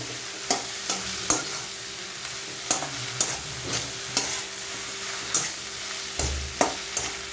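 Cut and washed monsoon okra cooks in a pan with onion and thecha, making a soft continuous sizzle, with regular sharp taps and scrapes of a spatula stirring it, all close and with no talking.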